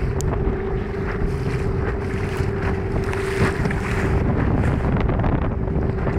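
A boat travelling across the open sea in heavy waves and strong wind, with a steady low engine drone, wind buffeting the microphone and water rushing continuously, loud and close throughout.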